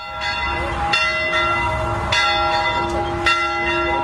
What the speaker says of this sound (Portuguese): O som do sino ficou guardado na memória da Dona Diva por um vídeo de celular.